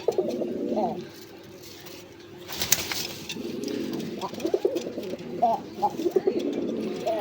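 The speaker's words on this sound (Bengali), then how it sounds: "বন্ধুরা এখানে একজোড়া রাসগোল্লা কবুতর আছে" Pair of domestic pigeons of a large-size, heavily knotted breed cooing softly and repeatedly at close range, with low murmuring coos rising and falling under a man's speech.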